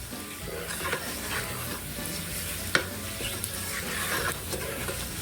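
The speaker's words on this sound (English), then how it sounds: "Keep it stirred. Keep it at a medium heat." Breakfast food frying in a pan at medium heat while being stirred, with a steady close sizzle and scattered scrapes and clinks from the utensil.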